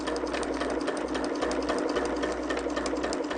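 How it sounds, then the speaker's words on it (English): A sewing machine stitches fabric seams with a steady, fast, even whirring rattle that holds at a constant pace throughout. "flip it over to do the sewing"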